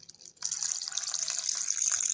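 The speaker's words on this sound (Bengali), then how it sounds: "দিয়ে দেবো জল।" Water pours steadily from a tap or jug into flour batter for cauliflower pakora, a continuous close splashing flow that starts abruptly and runs on without talk.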